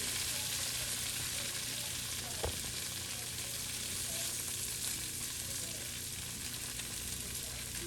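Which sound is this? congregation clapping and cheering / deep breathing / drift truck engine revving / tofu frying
tofu frying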